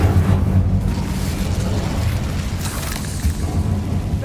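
An Incendio fire spell cast in Hogwarts Legacy, a loud rumbling whoosh of flame that holds steady with a brief burst near the start and another flare later.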